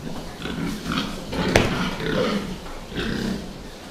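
Piglets on a farm grunt and snuffle in short repeated bursts, close by, with one sharp harsh burst near the middle that could be a cough among the softer low grunts.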